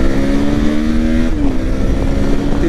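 A Suzuki V-Strom 650 XT motorcycle engine revs and pulls hard in second gear, its steady roar rising in pitch with a brief shift midway, loud and close.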